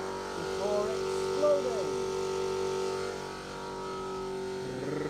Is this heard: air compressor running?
yes